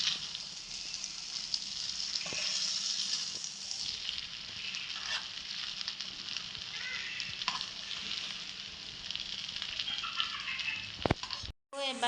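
Chicken biryani sizzles and fries in a small pot, a steady broadband crackle with occasional stirring clinks and scrapes, close and continuous before a brief drop near the end.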